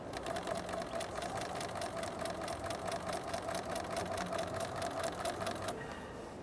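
Sewing machine stitching quilt pieces together, a steady close rapid mechanical whirr with fast regular needle ticking that stops near the end.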